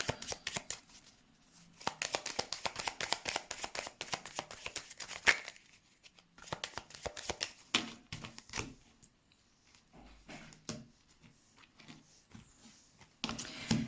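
Tarot cards being shuffled and cut by hand, with dense bursts of rapid riffling clicks separated by brief pauses, close and fairly quiet.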